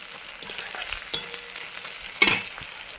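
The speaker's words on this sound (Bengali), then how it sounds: "এবার পেঁয়াজ দিয়ে দিচ্ছি।" Onions fry lightly in a pan with a low, even sizzle close by, broken by two clattering knocks of a utensil against the pan.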